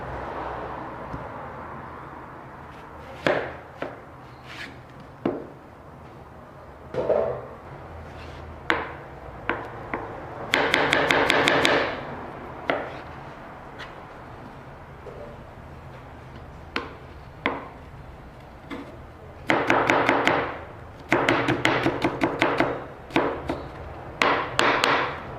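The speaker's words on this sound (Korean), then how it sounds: "파를 얇게 썰고, 그 다음에 양파," Knife chopping thinly sliced scallions and then onion on a cutting board, close and crisp, with scattered single taps and then fast rapid bursts of chopping, no talk.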